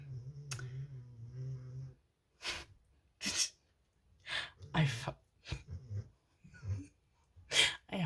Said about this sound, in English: hope the microphone is picking up my dog snoring that loud